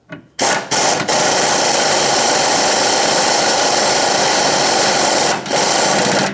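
Power tool driving an 18mm socket to snug up the hex nut on a Jeep Renegade rear stabilizer link; a loud, steady whirring buzz runs almost continuously, close by, with brief gaps at the start and near the end, no talking.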